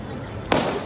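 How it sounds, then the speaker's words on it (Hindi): A single sharp firecracker bang cracks out during a night of celebrations at Panchvati in Nashik, a brief loud burst over steady crowd hubbub. "बम रुक ही नहीं रहे"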